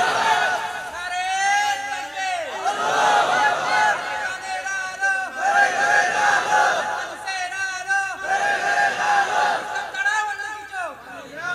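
A large crowd at a religious gathering chants the takbir in unison, loud rhythmic shouted phrases repeating in waves about every two to three seconds, filling the space.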